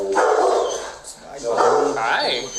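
A dog barks during a police encounter: two loud bursts of barking and yipping, close by, mixed with nearby voices and movement.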